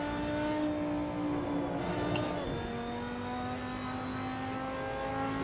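Race car in Assetto Corsa at the Kyalami circuit, its engine holding a steady, rising drone as it accelerates, with a brief tonal shift midway, moderately loud and heard without talk.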